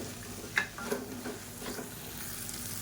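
Grated coconut stirred in a hot pan as it sautés, a soft sizzle with a few scraping strokes of the spatula near the start, close and fairly quiet, no talking.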